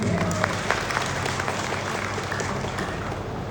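Audience applause for a guest speaker at a Shri Ram Charit Manas gyan yagna gathering in Kosmadi, a dense, steady wash of clapping from a crowd lasting throughout, fairly loud and continuous with a murmur of voices underneath.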